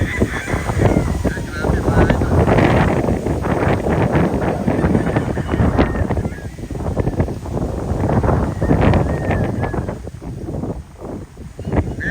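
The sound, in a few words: strong wind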